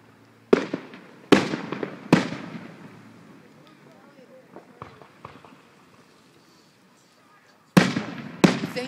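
Several loud fireworks bangs go off at irregular intervals in Anacortes, each with a sharp crack and a rumbling echo trailing away, with quiet gaps between bursts.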